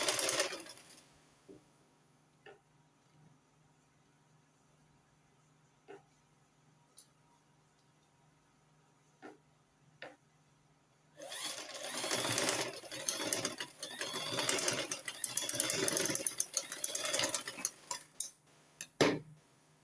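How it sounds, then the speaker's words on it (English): Sewing machine stitching a corset: after scattered faint ticks and clicks, the machine runs loud and close in rapid, steady bursts through the second half, pausing briefly between runs. "So I'm done stitching it."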